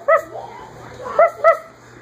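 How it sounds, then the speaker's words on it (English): A dog out for a walk gives three sharp, close yips with a soft whimper between them, a short and high-pitched burst of small-dog vocalizing. "Come walk that doggy."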